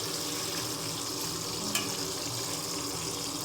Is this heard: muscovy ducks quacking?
no